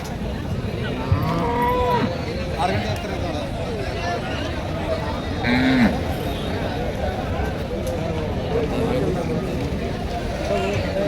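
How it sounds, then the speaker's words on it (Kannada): A Gir cow moos briefly amid the busy hubbub of voices and farm noise at the Ranebennur cattle market, the call rising and falling once in the middle. "ಗಿರ್ ಹಸು."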